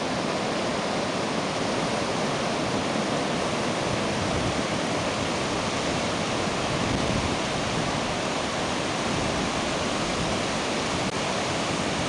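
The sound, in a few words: sea waves on a long beach at Karataş, Adana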